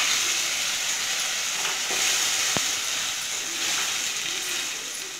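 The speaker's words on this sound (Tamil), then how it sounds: "வெங்காயம் தக்காளி கொஞ்சம் ஃபாஸ்டா வதங்கும்" Onions and tomato paste sauté in a pan for a fish curry, a steady loud sizzle and hiss throughout with a faint stirring scrape partway through.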